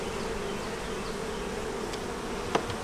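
Honey bees on a hive frame fill the air with a dense, steady buzzing hum, close and continuous, with a couple of louder passing buzzes near the end.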